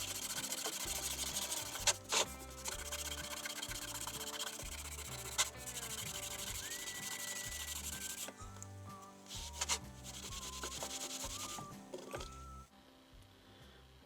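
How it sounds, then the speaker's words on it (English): Green abrasive scrubby pad worked over rusty steel with Marvel Mystery Oil, giving a continuous close scratchy rubbing with brief pauses, over faint background music. "I'll give it one more try with this green scrubby."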